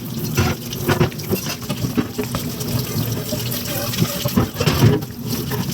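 Running tap water splashing steadily into a kitchen sink while dishes are washed up after cooking, a continuous close wash with occasional clinks and surges throughout.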